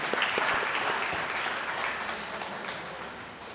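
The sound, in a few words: conference audience applause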